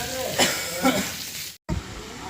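Fish curry bubbling at a boil with fish pieces frying in a pan, a steady sizzling hiss with a few stirring bumps and a short break, while a person talks over it.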